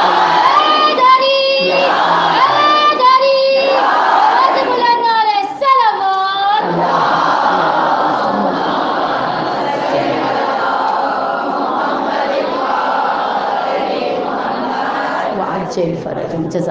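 Crowd at a Shia majlis gathering for Ayyam-e-Fatimiyah chanting slogans in loud, rhythmic call-and-response bursts, with dense mixed voices and shouting filling the hall.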